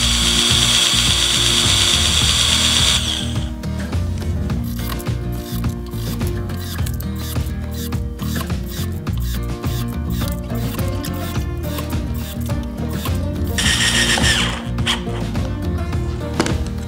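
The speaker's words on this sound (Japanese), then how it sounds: "しばらくちょっと回してみましょうか。" Whirring motor and rapid ratcheting clatter from a PRIMERO cordless electric screwdriver running continuously, loud and close, with a higher, smoother whine at the start and again near the end.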